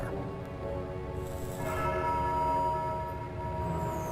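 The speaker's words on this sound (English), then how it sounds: "The tolling of a bell!" A bell tolls in the Foolish Mortals video game, its sustained ringing tones hanging over a steady background drone with no voices.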